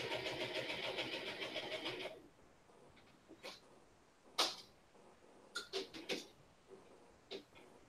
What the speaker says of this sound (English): I'm doing a slow stitch on purpose because I'm doing a crazy stitch.